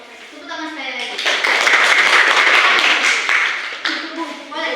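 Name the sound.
applause for presentation group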